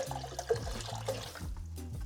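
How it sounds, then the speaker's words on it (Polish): Half a litre of vinegar being poured into the tank of a 2-litre VEVOR ultrasonic cleaner, a close, bubbling gurgle of liquid running in an uneven stream with a few splashy glugs. "Tutaj mam octu pół litra. To wleję połowę."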